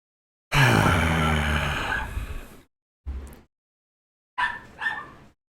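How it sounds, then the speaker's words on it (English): A pet dog indoors lets out a long, drawn-out groaning whine, then a short grunt, and after a pause two sharp, near barks in quick succession. "Because I need to have my dog barking in my review."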